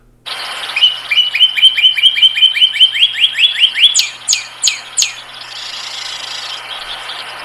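A northern cardinal sings alone, a fast run of repeated clear whistles rising in pitch, then a few slower, higher slurred notes, loud and close.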